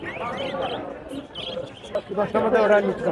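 Budgerigars and other pet birds at a busy outdoor bird market in Savar chirp and tweet in a steady, fairly close chatter, mixed with crowd noise and people talking.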